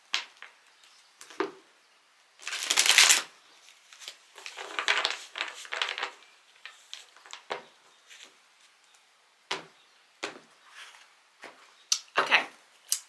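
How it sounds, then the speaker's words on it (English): A tarot deck being cut and shuffled by hand, heard as soft papery riffles, slaps and taps in scattered bursts, one longer riffle near the start, close and moderately loud with no talking over it. "And I will be cutting the deck."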